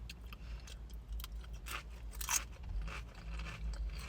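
Thin yellow homemade-style crisps crunching between the teeth in a few sharp, close bites over a low background rumble, with no talking.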